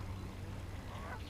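Geese at a lake honking after being scared off by a dog, a brief flurry of calls over a steady outdoor background.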